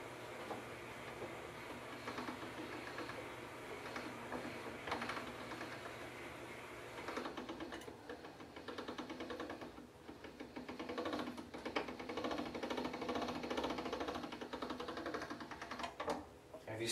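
A hand-cranked or motorized pasta machine flattening homemade lasagna dough, giving a steady mechanical whirring and rattling hum that runs continuously for the whole stretch at moderate level, with faint room noise and no talk.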